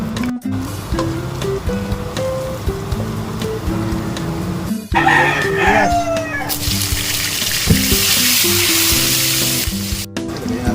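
Shrimp and tomato sautéing in a pan, a steady close sizzle with stirring and occasional clinks of utensils, swelling louder partway through as more ingredients hit the hot oil.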